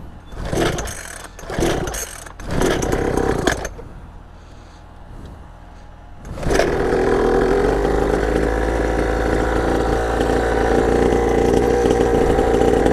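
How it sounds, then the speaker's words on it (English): Syx Moto 49cc two-stroke pit bike engine and exhaust during a top-speed run: sharp revving bursts, a brief lull near idle, then a loud, sustained high-pitched buzz at full throttle. "I like the exhaust, bro. For like, it's a 49cc two-stroke. The exhaust sounds amazing."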